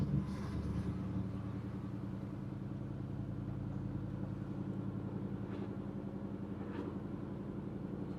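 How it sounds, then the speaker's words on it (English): A 1968 Chevrolet Impala SS pro touring car with a swapped LS V8 engine rumbles steadily through its exhaust while driving, a low, continuous throaty drone with a brief louder swell at the start. "the rumble out the pipes back there sounds great"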